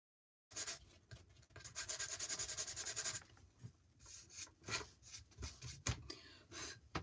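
A Dollar Tree pumpkin's surface is roughed up by scratchy rubbing, heard as close, quiet strokes. One long stretch of scrubbing comes first, then a series of shorter, uneven passes.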